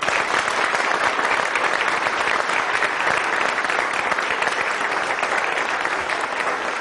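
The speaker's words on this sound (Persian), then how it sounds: "در روز معلم بلند میشیم و 5 ثانیه با عشق تشویق میکنیم" Studio audience in an Iranian comedy TV show applauding teachers on Teacher's Day, a dense, steady roar of clapping from a large crowd sustained for the whole stretch.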